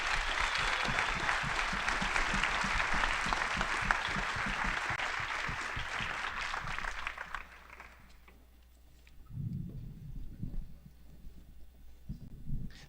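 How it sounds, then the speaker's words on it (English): An audience at a political debate convention gives a round of dense, steady applause for the moderators and candidates. The clapping fades out after about eight seconds, and quieter murmurs and movement follow. "let's give a round of applause to our moderators and especially our candidates here"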